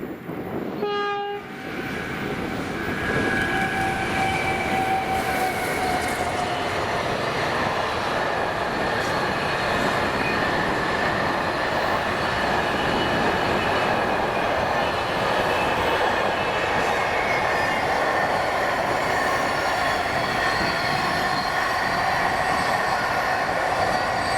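Freight train 4S43, the Daventry to Mossend Tesco Express hauled by locomotive 88006, passes at Carstairs in Scotland with a short horn blast at the start, then a loud, steady roar of wagons and wheels that lasts throughout.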